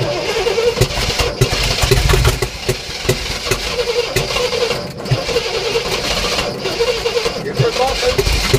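A 1967 Oldsmobile Toronado with a tired battery cranks and struggles to start, its engine churning steadily and loudly throughout, with people talking over it.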